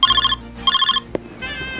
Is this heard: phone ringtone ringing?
yes